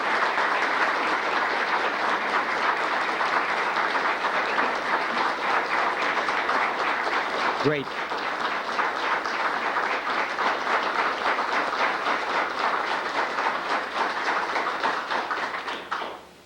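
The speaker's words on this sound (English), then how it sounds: "Give a rousing, warm applause to Congressman Ben Gilman." An audience at a rally for the Albanian national cause gives Congressman Ben Gilman a loud, sustained round of applause. The dense clapping runs steadily for about sixteen seconds before tapering off, and a voice briefly speaks over it.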